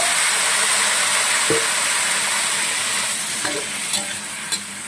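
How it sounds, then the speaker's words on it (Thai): Shrimp stir-frying with garlic in a hot pan, a steady broad sizzle throughout with a few scraping stirs of the spatula, close and fairly loud, no talking. "คั่วกุ้งให้สุกไม่ต้องใส่น้ำนะคะ เดี๋ยวน้ำกุ้งเขาจะออกมาเองค่ะ"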